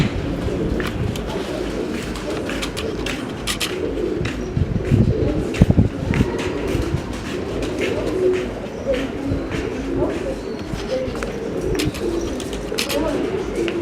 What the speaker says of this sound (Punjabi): ਇਹਦੇ ਪਰ ਪਿੰਜਰੀਆਂ 'ਚ ਕਬੂਤਰ ਹੈ